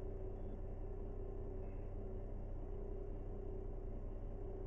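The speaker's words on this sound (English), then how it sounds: "Truck sounds a bit still louder than your voice." A Peterbilt 388 wrecker truck's engine gives a steady, low, droning rumble heard from inside the cab, continuous and even with no revving changes.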